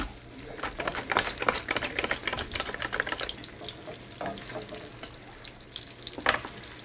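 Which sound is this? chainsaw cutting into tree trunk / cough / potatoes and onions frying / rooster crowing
potatoes and onions frying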